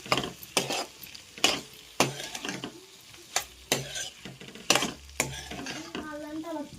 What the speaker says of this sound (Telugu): ఒకసారి కలుపుకున్నాను